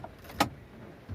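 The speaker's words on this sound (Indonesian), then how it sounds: "Kita cabut kunci kontak" An ignition key is pulled from a Toyota Avanza K3-VE with one quick, faint metallic click amid quiet surroundings, followed by a soft low rustle.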